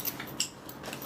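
Scissors snip fabric in a few quick, close metallic clips, spaced a fraction of a second apart, with no voices.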